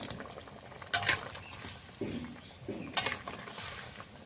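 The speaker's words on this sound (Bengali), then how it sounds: "তরকারিটা ফুটে উঠেছে, তাকে ভালো করে মাছটা দিয়ে দেবো।" A potato and okra curry simmers in a pot as small fish are added and stirred in, giving a low bubbling hiss with a few sharp clinks and scrapes of a spoon against the pan, close and without voices.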